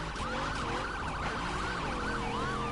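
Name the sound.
ambulance siren in video game The Crew 2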